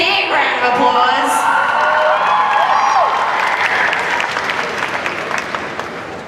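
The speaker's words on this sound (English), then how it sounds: "Give them a big round of applause." A convention crowd at a Sydney cosplay contest applauds and cheers a Black Butler costume team, loud sustained clapping with whoops and shouts that gradually fade toward the end.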